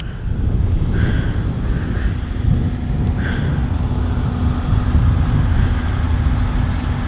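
A Wltoys F949 RC airplane flies outdoors on a breezy day, its small motor giving a steady buzzing drone under constant wind rumble, with a few faint higher whines rising briefly.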